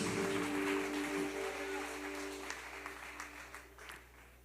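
A church congregation claps for the Lord during an evening worship service, soft diffuse applause under a steady hum that thins into scattered, fading claps.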